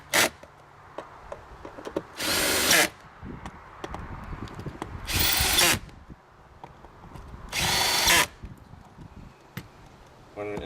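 A power drill whirs in three short, loud bursts a few seconds apart while tightening bolts on a Smooth Moves Ultra seat base, with quieter handling clatter between runs.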